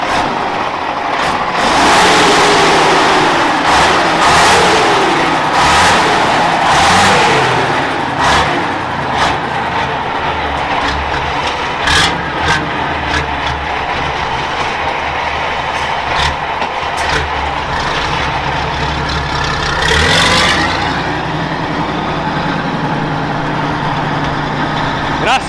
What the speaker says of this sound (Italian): dammi un attimo una bella sgasata